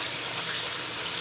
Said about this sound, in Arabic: طبعا بنضيف عليه ميه.